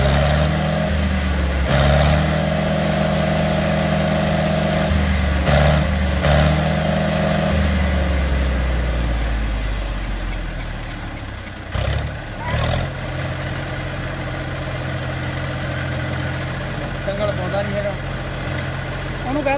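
A stuck tractor's engine runs steadily in a low idle with some revving, loud and close throughout, with voices talking over it in places.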